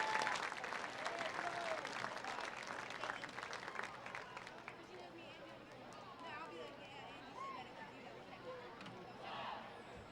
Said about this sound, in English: please give a round of applause to the Bel Vernon Area Football Hall of Fame class of 2015